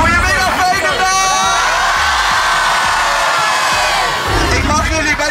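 School students at a Veenendaal lyceum scream and cheer outdoors, a dense, loud, continuous crowd roar with whoops rising over it.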